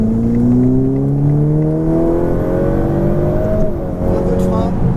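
A Ferrari F8 Tributo revs and climbs steadily in pitch as it accelerates on a track, loud and close, with a voice talking over it.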